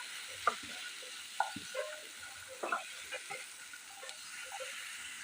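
Carrot, capsicum and other vegetables stir-fried in a pan for veg momos give a faint, low sizzle broken by light, irregular spatula scrapes and taps.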